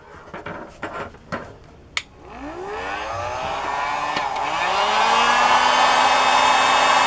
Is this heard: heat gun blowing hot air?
yes